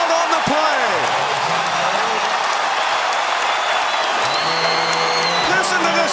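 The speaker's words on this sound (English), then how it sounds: "Listen to this crowd as they just now figure out that Calvin Murphy's record has finally fallen" Basketball arena crowd at a Houston Rockets game roaring and cheering loudly and continuously, with a basketball bouncing on the court and a commentator talking over the din.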